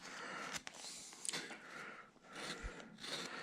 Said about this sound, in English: Now I'm taking this number 9 gouge and I'm really putting the shape back in there in the shoulder and the hip area.